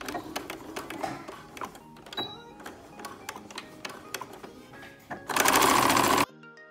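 Sewing machine stitching a fabric seam on a pajama project, heard close up as irregular ticking and short stitch bursts, ending with a loud steady run of fast stitching for about a second.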